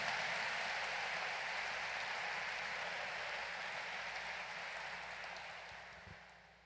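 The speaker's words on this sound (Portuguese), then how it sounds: "você pode aplaudir a Cristo." A church congregation applauds in a dense, even patter of clapping that holds steady and slowly fades toward the end, heard at a distance.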